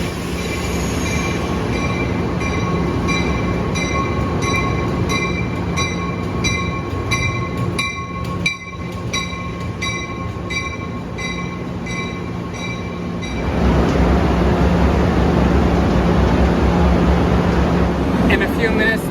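Metra Southwest Service commuter train standing at a platform, with a steady mechanical hum and faint squeals that give way to a louder, broader rumble near the end, as if the train is pulling away or another train is passing.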